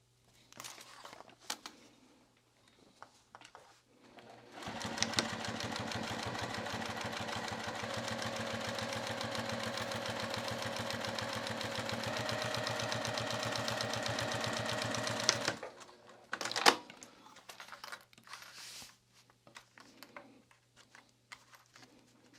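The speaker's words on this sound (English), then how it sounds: "So back to the sewing machine." A sewing machine runs steadily for about ten seconds, a fast mechanical whirring stitch, with quiet handling clicks before and after.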